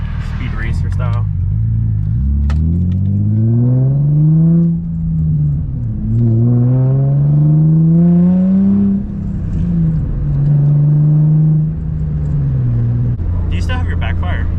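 A car approaches fast, engine revving up and down in several rising and falling sweeps, loud and close, with voices talking over it.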